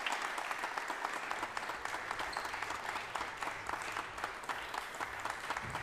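A crowd applauds after a squash match at a world championship, sustained dense clapping at moderate distance, with no talk over it.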